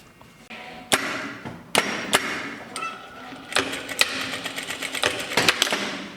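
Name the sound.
sewing machine stitching a V on a shirt placket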